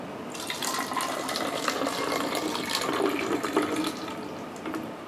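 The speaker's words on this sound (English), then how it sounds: "we're going to start by filling up our bottle about a quarter of the way with water" Water pours steadily from a tap into a plastic bottle, a continuous close splashing fill lasting a few seconds with no talking.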